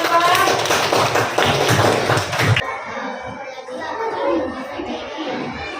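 Classroom applause for a student group: a burst of many hands clapping with a crowd of children that cuts off sharply midway, leaving quieter room noise and faint voices afterward.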